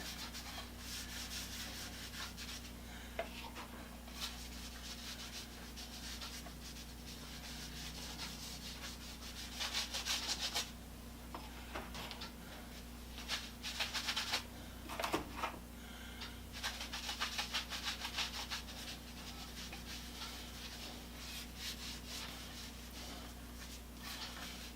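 A rag rubs a protective coat onto the head of an antique Woodings sledge hammer to seal it against rust, giving a steady, soft swishing wipe that continues throughout with a few slightly louder scrubbing bursts and a low background hum.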